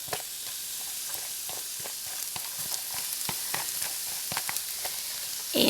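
Onions sizzle steadily in a pan of butter and oil, a continuous crackling fry broken by soft, irregular stirring clicks, close and moderately loud with no voices.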